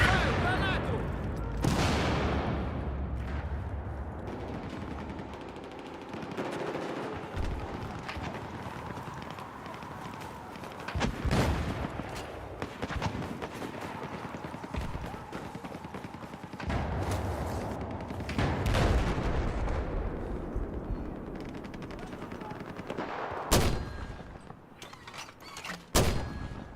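Video game combat: bursts of machine gun fire and sharp blasts break out repeatedly over a steady background rumble, loud and close at intervals, with occasional voices.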